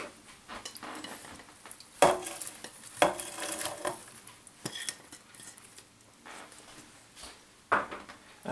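Chopped potatoes and sliced leek tumble into a soup pan in a series of knocks and clatters, with metal utensils scraping and stirring between a few sharper thuds, close and moderately loud with no talking.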